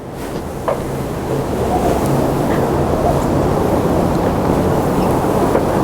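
Steady wind buffets the microphone in a Tokyo park with a constant low rumble and gusty noise, no voices heard.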